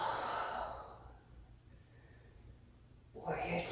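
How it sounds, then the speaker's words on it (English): Ujjayi breathing during a power vinyasa yoga flow, a long audible breath that swells and fades, with quieter breathing in the middle and an instructor's voice over the start and end. "Connect with your ujjayi breath."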